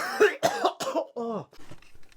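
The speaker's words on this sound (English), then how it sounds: "Cough alert!" A person with cystic fibrosis coughs in a short fit of four or five harsh, wet bursts, close and loud, trailing off into quieter breathy coughs.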